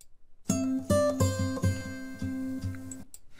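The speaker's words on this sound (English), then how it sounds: "There's folk." A short acoustic folk tune with plucked, strummed string chords in a steady rhythm, clear and close, with no voices.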